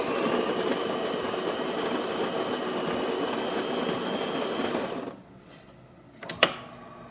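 A DeLonghi espresso machine with a newly replaced pump runs with a steady, loud mechanical hum and buzz for about five seconds, then cuts out, leaving quiet room tone broken by a couple of brief clicks near the end.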